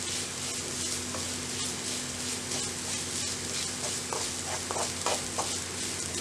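Kallumakkaya (mussel) thoran mixture being stirred in a hot pan, a steady close sizzle with scraping spoon strokes and a few brighter clicks near the end, no voices.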